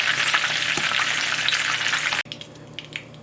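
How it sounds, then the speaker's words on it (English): Steady, loud sizzling of boneless chicken breast frying in oil in a pan for about two seconds, then it cuts to quieter crackles and a few soft pops. "And then I'm just gonna keep frying the rest."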